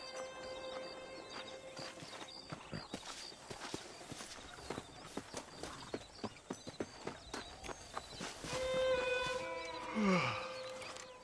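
Horse hooves clip-clop at a steady trotting rhythm in the video game Red Dead Redemption, then the sound thickens and swells near the end with a louder, voice-like burst.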